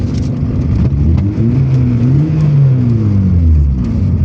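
A VAZ 2112 with its burnt-out muffler removed drives along, its engine a loud, raw, continuous drone whose pitch rises and falls steadily with no talking over it.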